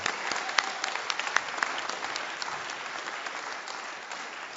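A theater audience claps steadily for the performers and their pianist, a dense, even round of applause that carries on throughout with a few sharper individual claps standing out near the start.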